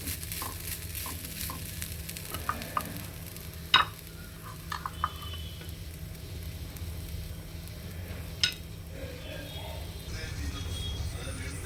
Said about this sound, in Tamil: தேங்காய் 1/4 கப்பு தேங்காய் அது போட்டு நல்லா ப்ரௌன் கலராக வறுக்கணும்.